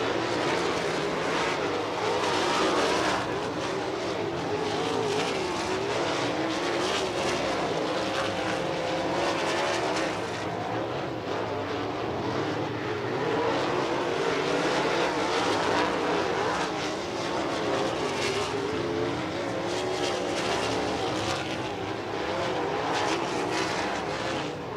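USAC National Sprint Car hot laps on the dirt oval at Lincoln Park Speedway: a loud, continuous engine roar from the field, steady and dense for the whole stretch, swelling and easing slightly as cars circle without pause.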